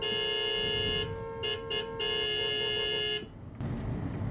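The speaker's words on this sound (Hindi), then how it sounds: "अभी इसके हॉर्न मारूंगा अभी।" A car horn honks in several short and long blasts, loud and close, over a low rumble of traffic.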